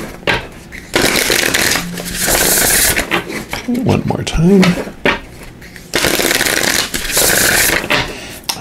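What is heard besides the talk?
shuffling a deck of tarot cards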